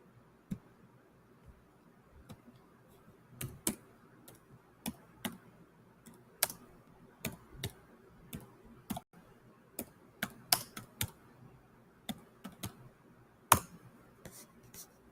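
Keystrokes on a computer keyboard as a search is typed, scattered irregular clicks in short bursts with pauses, fairly close and alone without talk.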